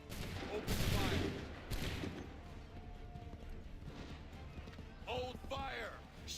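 Musket volley gunfire in the Assassin's Creed III video game, a loud crackling burst of shots over battlefield noise, with shouted commands and voices over the din.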